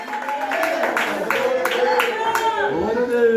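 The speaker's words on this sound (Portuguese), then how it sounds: "mais palmas para o Senhor Jesus." Worshippers in a church keep up rhythmic group clapping for Jesus, even and energetic, as a preacher's amplified voice urges them on over the claps.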